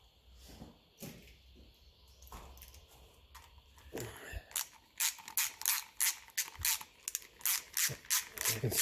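Ratcheting clicks from tightening nuts or bolts on a 1957 Ferguson 35 TVO tractor, starting as scattered metallic knocks and turning into a fast, regular run of close, sharp ratchet strokes, with faint talk early on.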